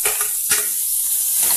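Vegetables sautéing in a pan for homemade momo filling, a bright continuous sizzle close up with a couple of quick stirring scrapes.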